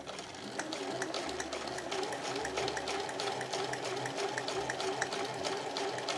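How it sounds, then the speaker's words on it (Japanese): A home sewing machine runs steadily, stitching No.8 canvas for a tote bag with a 3.0 stitch length, a continuous close mechanical whir with faint rapid needle ticking throughout. "そしたら返し縫いしないでそのまま縫っていきます。"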